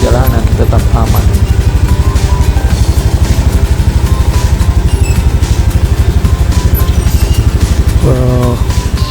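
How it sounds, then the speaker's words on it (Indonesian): A motorcycle engine on a rough mountain track toward Latimojong runs with a fast, loud, rhythmic thumping pulse close by, with brief voices cutting in near the start and end. "memberi ruang buat motor menenangkan diri, agar putaran mesin jadi dingin"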